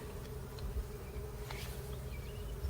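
Honeybees buzz and drone steadily around their hive during a solar eclipse, several insects humming at once with occasional louder passes, under a low background rumble.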